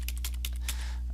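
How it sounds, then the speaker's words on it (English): Rapid computer keyboard key presses during a key-spamming race game, several quick clicks in a tight burst over a steady low electrical hum, close and without talking. "the keys to make the players move across the screen again."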